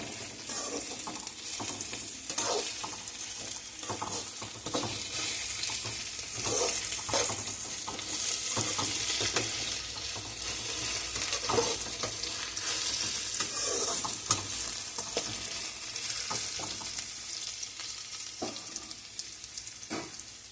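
Ingredients for ridge gourd chutney fry in a pan, a continuous sizzle with frequent rhythmic stirring scrapes and taps across the whole stretch.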